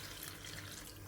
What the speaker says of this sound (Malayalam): ഇനി ഇതിലേക്ക് കുറച്ച് വെള്ളം ഒഴിച്ചു കൊടുക്കുക.